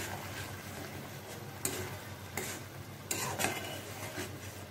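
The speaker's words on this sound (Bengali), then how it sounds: "এখন এটাকে খুব সুন্দর করে কষিয়ে নেব।" A spoon stirs and scrapes potato curry with chili powder in a pan as it sautés, giving faint low sizzling and several distinct scraping clinks spread through the stretch.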